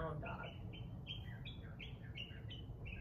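Birds chirp and whistle repeatedly at a moderate distance during an outdoor yoga flow, their bright calls steady over soft background noise.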